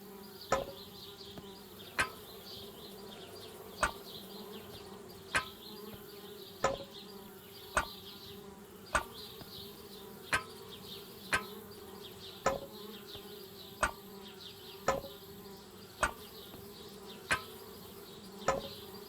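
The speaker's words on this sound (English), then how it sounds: "Darn bees, trying to move into our tree house." Bees buzzing around a tree house in the adventure game Anna's Quest, a faint steady insect drone with sharp ticking knocks repeating at an even pace about every second and a half.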